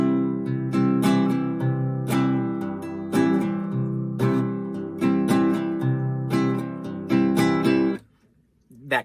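A ukulele strums a country rhythm, with a plucked low C bass note between bright chord strums in a steady bouncing pattern. Playing is close and clear, and it stops abruptly near the end.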